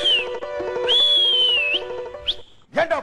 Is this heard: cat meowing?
no